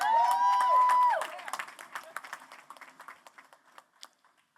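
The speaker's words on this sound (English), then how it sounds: "Give yourselves a round of applause." Audience applause at a Detroit mayoral campaign announcement, rising over a brief musical tone at first, then thinning into scattered individual claps that fade out.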